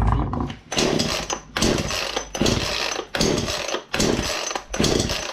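Cold chainsaw that pops but won't start, idle being adjusted: repeated harsh buzzing bursts of sputtering engine, each cutting out after about a second, roughly five attempts in a row, close and loud.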